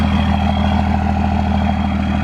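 A second-generation truck diesel with a straight-pipe exhaust and no tune idles close by, giving a loud, steady, throbbing rumble with an even low pulse and no change in pace.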